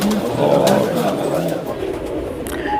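Sialkoti and Allahabad Phulsaro cross-bred high flyer pigeons coo steadily in soft, throaty murmurs, close and continuous, with a voice talking faintly in the background.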